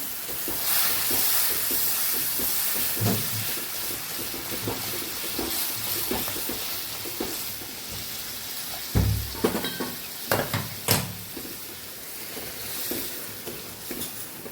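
Water poured slowly into a pan on a very low gas flame and stirred in, with sizzling and frying crackle under scraping, mixing strokes; a few louder splashes and clinks come partway through, with no talking.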